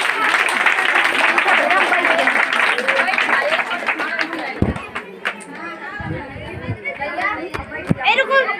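Dense applause from an audience seated at a village organisation's inauguration, loud and sustained for about four seconds, then thinning into scattered claps under crowd chatter and nearby voices.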